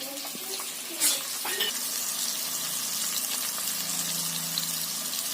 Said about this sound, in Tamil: ஸோ இன்னும் 2 பச்சை மிளகாய் சேர்த்துக்கிறேன்.